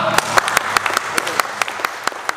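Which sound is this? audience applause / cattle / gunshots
audience applause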